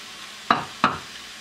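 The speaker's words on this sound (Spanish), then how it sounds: "Voy a agregar las papas que ya las tengo aquí cortadas, digamos que en trocitos medianos, cubitos medianos." Medium chunks of potato tipped into a hot pan for a low-fat potato and poblano pepper dish, giving two brief, close sizzling bursts a moment apart.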